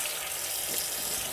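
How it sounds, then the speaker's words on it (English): Kitchen tap water pours steadily onto corned beef sitting in a strainer, a constant close hiss with no talking. "I'm gonna turn on the water here"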